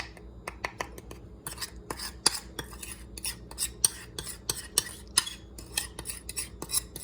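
A utensil stirs a salad mixture in a bowl, with repeated sharp clinks and scrapes against the sides in an uneven, steady rhythm, close and fairly quiet.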